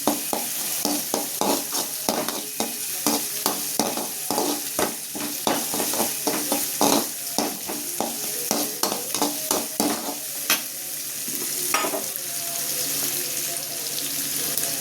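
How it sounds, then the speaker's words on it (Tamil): Onions and green chilies sautéing in a pan, a bright continuous sizzle broken by a quick run of sharp spoon-against-pan scrapes and taps, close and loud, with no talking. "வெங்காயமும் பச்சை மிளகாவும் போட்டு பொன்னிறமாக வதக்கணும்"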